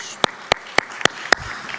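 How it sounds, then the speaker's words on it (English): At the opening ceremony of the 5G Techritory 2024 conference, five crisp, evenly spaced hand claps ring out nearby over a quiet room after a panel session, then trail off. "thank you very much, and round of applause"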